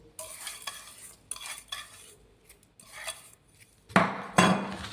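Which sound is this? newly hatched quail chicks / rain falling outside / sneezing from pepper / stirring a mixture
stirring a mixture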